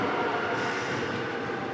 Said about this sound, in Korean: 대중교통 수단인 지하철을 찾았는데요